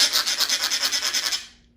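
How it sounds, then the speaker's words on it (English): Dry, rasping rubbing as stale cake crumbs are scrubbed into a rhinoceros's skin, about a dozen quick rhythmic strokes close up, then fading out near the end. "rubbed the crumbs into the skin"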